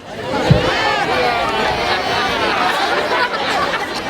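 Crowd chatter at a Cinco de Mayo celebration in Mexico, a loud, close babble of many overlapping voices with occasional laughter and a brief thump near the start.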